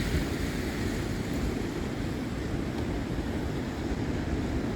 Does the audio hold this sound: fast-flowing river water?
yes